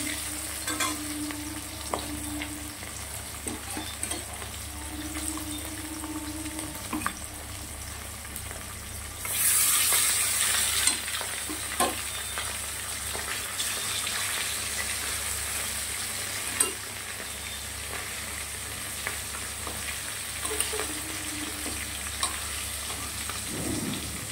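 Katla fish crackles in hot oil in a wok, a steady dense sizzle that holds for the whole stretch and swells into a louder, brighter burst partway through before settling back.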